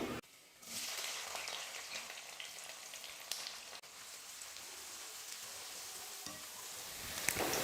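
Sliced shallots and curry leaves sizzling steadily in hot oil in a pan for a Tamil kulambu, a dense continuous crackle close by with faint utensil scrapes and no voices.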